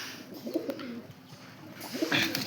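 White Malwai pigeons with white eyes coo close by in two bursts of low, throaty rolling calls, separated by a quieter pause with faint background noise.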